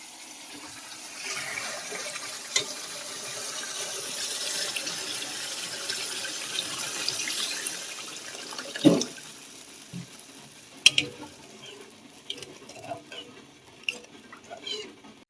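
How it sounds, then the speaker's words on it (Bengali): Water runs into a pan of poppy seed and yogurt masala, a steady pouring rush for several seconds, followed by quieter clinks and stirring sounds. "এবার আমি জল দিয়ে দেবো।"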